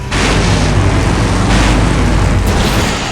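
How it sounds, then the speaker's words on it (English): A huge explosion in the video game Full Throttle Remastered roars as a loud, sustained blast of rumbling noise with deep low end that carries on for several seconds before easing off slightly. "Now that's an explosion, ladies and gentlemen."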